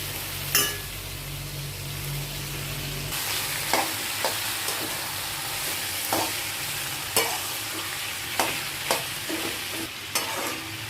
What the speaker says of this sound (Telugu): ఇప్పుడు చిక్కుడుకాయ వేస్తున్నానండి.